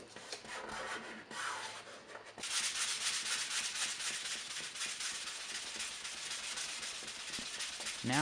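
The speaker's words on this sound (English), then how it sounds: "I used 5000 grit sandpaper and wet sanded down all the excess paint" Steady wet sanding of car paint with 5000 grit sandpaper on a BMW E30, a close, continuous rubbing hiss that briefly pauses, then resumes and carries on evenly.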